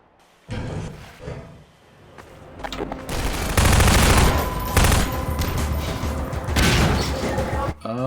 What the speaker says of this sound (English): Yeah, you see what I mean about the explosions.